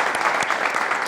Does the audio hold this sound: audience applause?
yes